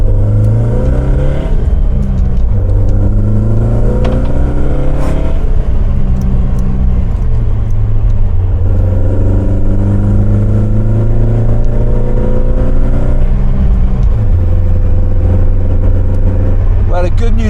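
A 1972 Lotus Europa Twin Cam engine drones loudly and steadily on a road, pitch climbing and falling through repeated accelerations, with in-car talk running over it throughout.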